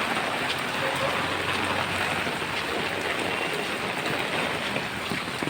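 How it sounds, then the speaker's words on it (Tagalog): Heavy rain pours down steadily in a dense, unbroken wash of hiss and patter during a flood-causing downpour, loud and close, with no pause throughout. "Ulan lang yan."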